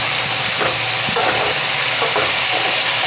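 Moong dal and fenugreek leaves being stirred and sautéed in a pan, a steady close sizzle broken by scraping spatula strokes, with no voices.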